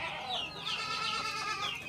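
A flock of chickens clucks and chatters in overlapping calls, a busy, moderately close barnyard murmur with no one talking.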